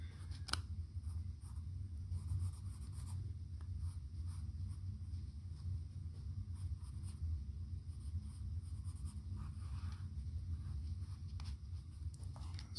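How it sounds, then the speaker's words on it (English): Pencil or marker sketching a breastplate outline on beer-box cardboard, a soft, steady scratchy scraping with faint taps and strokes, close and quiet over a low background hum, no talking. "then I'm going to sketch on that breastplate approximately"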